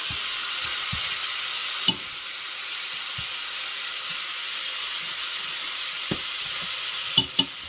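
Oxtail frying in a pot on a stove at medium heat, with a steady loud sizzle and hiss that fills the whole stretch, broken by several sharp pops and spatters, and no voices.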